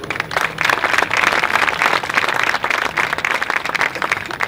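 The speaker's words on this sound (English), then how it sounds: "they deserve a big round of applause" Loud, dense applause from a large crowd at an MA graduation ceremony for a government, diplomacy and strategy program, sustained evenly throughout.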